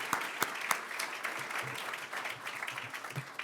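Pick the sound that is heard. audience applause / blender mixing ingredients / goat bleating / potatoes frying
audience applause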